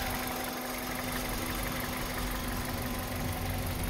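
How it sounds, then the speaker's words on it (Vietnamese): A 2009 Kia Forte with a 1.6 engine and automatic gearbox idles smoothly, giving an even, continuous close-up drone with no revving and no voices. "Đây có bác có thể nghe phần tiếng máy giúp em này. Đấy, máy rất êm luôn. Máy nổ rất êm luôn"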